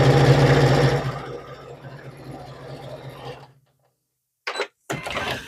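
Sewing machine stitching together quilt strips made of small joined blocks, a steady loud mechanical whirr for over three seconds, then silence and two short bursts of stitching.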